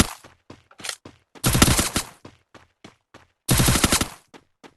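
Free Fire video game gunfire from a long-range weapon: loud, close bursts of rapid automatic shots in two long volleys, separated by single, sharper cracks and brief gaps.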